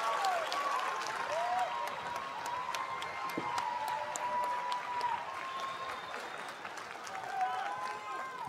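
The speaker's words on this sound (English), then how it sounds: "Let's give your family a round of applause." Graduates at a University of North Georgia fall commencement ceremony applaud their families, a broad steady wash of crowd clapping filling a large hall, with faint voices and a few whoops mixed in.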